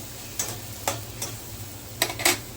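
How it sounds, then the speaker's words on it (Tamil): Soft sizzling of pumpkin sautéing in oil in a pan, with a few scraping stirs of a spatula at irregular intervals, close by. "இது வந்து ஒரு 2 நிமிஷம் நல்லா வதக்கிடுவோம்"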